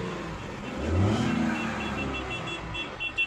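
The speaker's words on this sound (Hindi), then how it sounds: "गाड़ी स्टार्ट हो गई है।" A Tata Tiago car engine runs just after being started. It swells into a brief rev about a second in, then settles to a steady, moderate idle hum with no speech.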